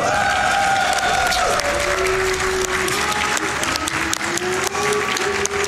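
A large speedrun marathon crowd at a live gaming event cheers and yells continuously, a loud, dense roar with scattered shouts running throughout, while a game's music plays underneath.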